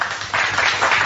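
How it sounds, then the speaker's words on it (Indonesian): An audience at a religious lecture breaks into a brief burst of dense applause, steady and fairly loud throughout. "Tepuk tangan dulu biar semangat."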